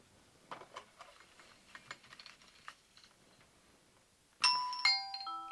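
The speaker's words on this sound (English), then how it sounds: "So we have to set a mechanical chime." A smart doorbell set to drive a mechanical chime rings out loudly after several seconds of faint clicking and tapping, a bright struck tone followed by a second ringing strike that lingers and decays.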